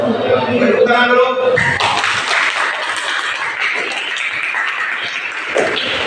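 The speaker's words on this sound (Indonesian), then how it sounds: "Tepuk tangan dulu." Classroom applause from students: a short burst of voices gives way to steady, dense clapping that fills the room for several seconds at close range.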